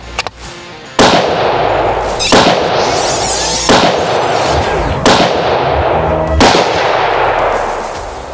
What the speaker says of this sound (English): we headed down to the gun range and to check zero on the gun